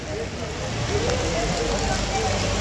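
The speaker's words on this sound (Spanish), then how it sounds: "A causa de la lluvia que está cayendo, todo el personal se ha venido para el portal porque está cayendo una tormenta." Heavy storm rain pours down in San Salvador, a dense, continuous hiss of falling water on surfaces, loud and steady throughout with no clear voices.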